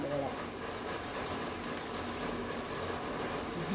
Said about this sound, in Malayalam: മഴ പെയ്യുന്നുണ്ട് ഇവിടെ.